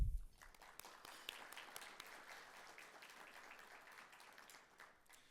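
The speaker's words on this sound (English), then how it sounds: "Please give them a loud applause." Audience applause at a convention breakfast in the US, a quiet, steady wash of many hands clapping after an onset, staying even and fairly distant before thinning slightly toward the end.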